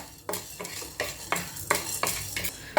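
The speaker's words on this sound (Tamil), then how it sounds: "இப்போ இதை நல்லா ஒரு ட்ரை ரோஸ்ட் பண்ணி எடுத்துக்குவோம்" Cumin, fennel and curry leaves dry roast in a pan for a wedding-style potato pepper fry. A spoon scrapes and taps the metal in irregular close clinks, with a faint crackle underneath and no voices.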